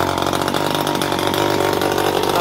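A 26cc brush cutter engine adapted for a model aircraft, fitted with a motorcycle CDI ignition, running close by at a steady, buzzing idle without pause.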